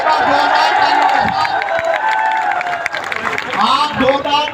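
An audience greets a tuition team with loud clapping and cheering, a continuous crowd roar while a voice talks over it.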